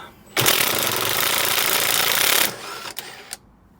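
An impact driver undoes a rear suspension nut on a car: one loud, sustained burst of rapid hammering lasting about two seconds, then two short closing rattles, close by with no talk.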